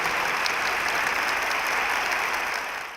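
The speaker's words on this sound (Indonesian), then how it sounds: "ya tepuk tangan yang kencang" Loud, steady applause from a campus audience at a talk-show taping, a dense wash of clapping held throughout and tapering slightly at the end.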